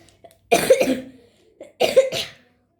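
Two separate coughing bursts, each a harsh double cough, close and fairly loud, with a short quiet gap between them.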